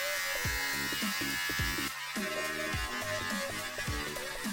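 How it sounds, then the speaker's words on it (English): An electric beard trimmer buzzes close by as it trims stray beard hairs, its steady motor hum broken by short, choppy bursts as it passes over the face; no speech. "hopefully this is just going to trim all those stray hairs"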